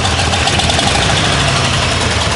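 Engine of a 30-year-old Ford F150 with a misfire, idling loud and close in a steady dense rumble, alone with no voices.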